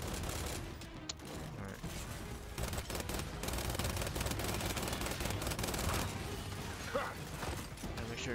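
Sustained gunfire in the Gears 5 video game, a dense rattle of rapid automatic shots with scattered sharp cracks and impacts running steadily throughout, while a voice speaks briefly.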